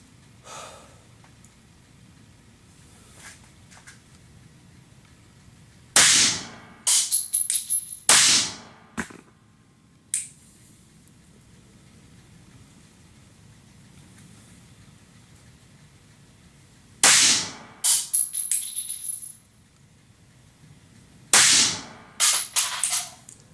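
Outdoor range with .45 ACP pistol firing Blazer rounds: bursts of sharp close shots in quick clusters, separated by long quiet stretches of faint background noise, roughly a dozen reports overall.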